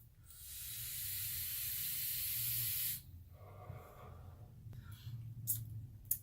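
Drawing a hit through a Wotofo Profile mesh RDA vape with honeycomb airflow and a mesh coil: a steady close airy hiss lasting about three seconds, followed by quieter faint rustling and handling sounds.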